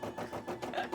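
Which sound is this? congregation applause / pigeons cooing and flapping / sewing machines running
sewing machines running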